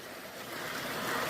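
Steady rushing water from a backyard garden waterfall set in a dug pit, a continuous broadband wash heard close and alone with no talk.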